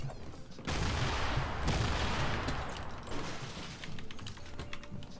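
Shotgun fire in the video game Fortnite, heard as dense, continuous loud bursts of gunfire and explosions that cut in suddenly and keep going.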